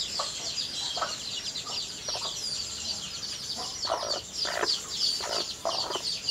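A brooding hen clucks repeatedly at close range in a series of short, uneven clucks over a constant high-pitched background drone.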